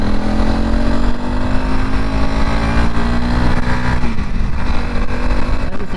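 A 2021 Honda CRF300 Rally motorcycle engine drones steadily and loudly while being ridden, its pitch sliding gradually lower near the end, with heavy wind rumble underneath and no speech.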